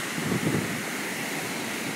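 Water rushing steadily at the Smolarski waterfalls, a constant broadband roar with no breaks, loud and close, with no voices over it.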